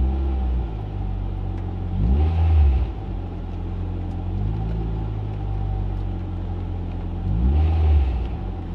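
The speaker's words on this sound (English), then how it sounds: "I'm just going to blip the accelerator" A Ford Fiesta ST with an idle issue sits idling with a steady low rumble, and its engine rises sharply twice as the accelerator is blipped, each rev swelling and falling back to idle, close and loud.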